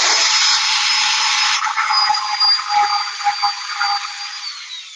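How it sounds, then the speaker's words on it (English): An electric hand sander runs steadily at close range, a loud high whine with a constant motor hum that softens slightly midway and holds on without talk. "Now this sander, unlike the belt sander, is really aggressive."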